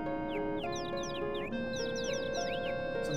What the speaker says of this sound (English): You hear the little birds chirping.